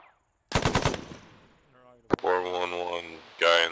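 Bursts of machine gun fire ring out in ArmA 3: one rapid volley up front, then a sharp shot and a longer sustained stream, with voices talking over the radio between and across the shooting.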